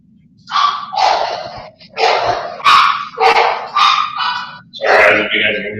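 Dogs bark in a steady series of about seven loud, close barks spaced roughly half a second to a second apart, each sharp and full, heard alone without talk.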